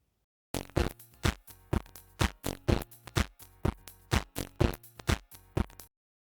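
A series of about fourteen short, crackly bursts in a steady rhythm, thin and gritty like distortion residue from a clipper plugin in a null test, with no voices.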